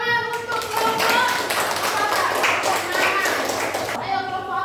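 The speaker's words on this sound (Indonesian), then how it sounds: "Tepuk tangan untuk kelompok" A class of children claps together for a group in an Indonesian-language lesson, a steady burst of many hands mixed with children's voices and chatter throughout.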